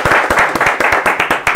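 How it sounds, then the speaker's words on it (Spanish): Applause for a guest on a Spanish-language chat show, a few people clapping close and loud in a quick, uneven rhythm for a short burst. "un aplauso para él"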